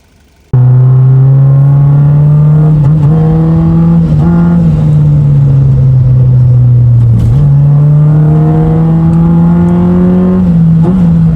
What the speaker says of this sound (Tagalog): Full exhaust by Freemap by Fred Mabasa